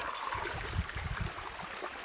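Someone wades through a river where goats are crossing, the water sloshing and churning in steady low surges against a constant rushing flow, close to the microphone with no voices.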